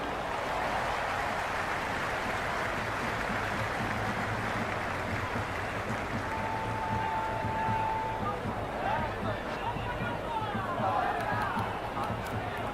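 Steady crowd noise fills a cricket ground during a T20 match between RCB and Lahore Qalandars in the Cricket 26 video game, a dense, continuous roar of many voices that stays loud throughout.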